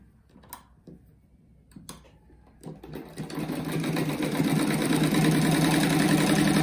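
Sewing machine stitching fabric for a pencil-shaped rug, a few handling clicks and taps first, then the motor starts and runs in a steady, close, rapid mechanical chatter.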